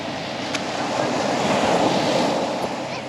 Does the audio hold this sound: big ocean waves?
yes